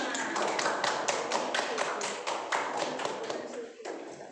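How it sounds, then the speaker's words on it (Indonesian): Classroom of students clapping together in a steady burst of sharp hand claps, fairly close and even in loudness, with a little chatter mixed in before it thins out near the end. "Oke, beri tepuk tangan untuk kita semua."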